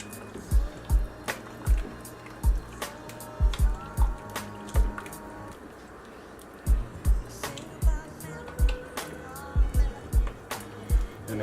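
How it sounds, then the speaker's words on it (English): Spoon stirring homemade spaghetti meat sauce with added tomatoes in a pot, giving irregular soft knocks and wet squelches against the pot over a low background hum. "You just want to stir this up."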